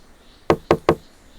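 Three sharp, evenly spaced knocks on a door in a forest setting, close and loud, with quiet before and after and no voices.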